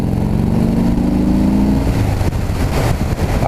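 A Harley-Davidson Sport Glide motorcycle accelerating, its engine rumble rising in pitch as it pulls hard, then settling into a loud sustained roar with wind noise throughout.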